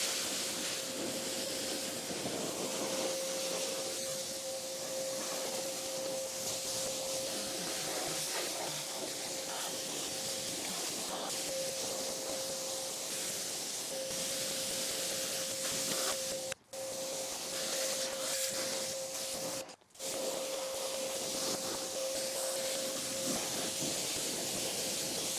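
A fine water mist sprays steadily over a Honda CRF250R dirt bike, a constant close hiss that runs the whole time with two brief breaks.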